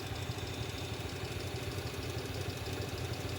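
Car engine idling steadily just after starting, a close, even mid-low hum with a slight knocking pulse, no voices.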